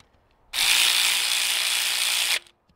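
A cordless ratchet whirs in one steady, loud burst of about two seconds while tightening valve cover bolts, then cuts off abruptly.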